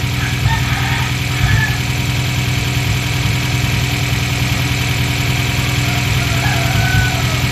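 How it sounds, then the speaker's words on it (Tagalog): An engine idles steadily up close, a continuous rumbling drone with a constant, even vibration and no change in pace. "parang malakas ang minor yata itong makina na ito."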